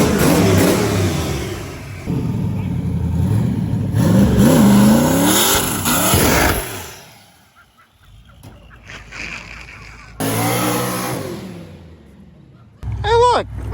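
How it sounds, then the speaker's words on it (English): The Rotsun roadkill car with a new engine revs hard through burnouts, engine roaring and tires squealing in rising and falling bursts, with a sudden drop to near silence midway before a final loud squeal. "I guess burnouts."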